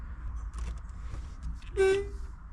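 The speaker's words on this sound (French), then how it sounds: "Déjà j'ai un klaxon." A car horn gives a single short honk near the end, loud and close over a quiet low engine hum and some faint clicks and rustles.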